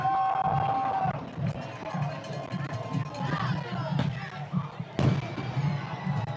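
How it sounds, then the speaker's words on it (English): Fireworks going off at a high school football game, heard as a few sharp pops and bangs, one loud crack near the end, over crowd noise, stadium bustle and a commentator talking. "You can hear the fireworks going off."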